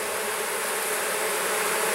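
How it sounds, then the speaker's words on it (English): Honeybees fan at a hot, smoked hive, making a dense, continuous buzzing drone that is close and steady throughout. "when the hive gets hot and when you smoke them, they start to fan"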